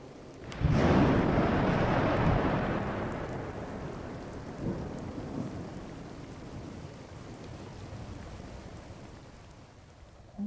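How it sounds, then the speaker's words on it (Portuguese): Heavy rain pours steadily and loudly as a thunderstorm rolls, with a long rumble of thunder early on that fades slowly, followed by a softer crack, all without voices. "Chovia muito."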